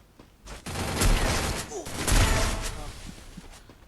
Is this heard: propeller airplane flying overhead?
no